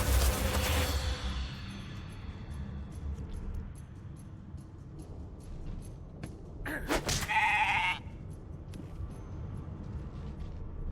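A sheep bleats loudly once in a short burst in the video game Divinity: Original Sin 2, with a steady background hum and scattered clicks around it, with no voices present.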